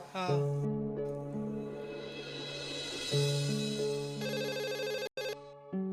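A telephone ringtone plays loudly and continuously for about six seconds, a repeating electronic melody of clear stepped tones that briefly cuts out near the end, in a TV sitcom scene.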